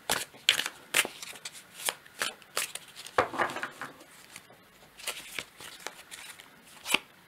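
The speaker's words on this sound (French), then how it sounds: "Alors, je vais prendre 3 cartes pour ce message de maintenant." Oracle cards shuffled and drawn one after another, crisp papery flicks and slaps in irregular bursts, close and soft, with no voices over them.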